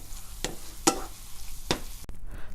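Prawn masala frying in a pan makes a soft, continuous sizzle, broken by a few brief scraping stirs of a spatula.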